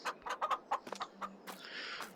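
Chickens in the video game Farming Simulator 2023 give a string of short, close clucks in uneven bursts, followed by a softer drawn-out call.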